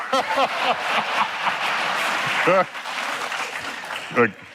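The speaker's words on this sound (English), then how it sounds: "Keep the applause when you get them." Audience applause at a science communication event, a broad steady wash of clapping that fills the clip, with voices and brief laughter rising through it.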